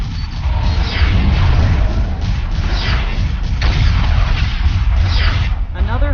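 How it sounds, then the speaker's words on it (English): Spaceship weapons fire automatically in a free space video game, a dense, steady barrage of booming blasts running without pause, with a voice faintly present in the mix. "Engaging automated protocols. All weapons on auto mode."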